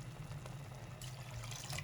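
A cup of water is poured into beef filling cooking in a pan, giving a steady, close splashing and sizzling wash of liquid that runs for under two seconds with no voices.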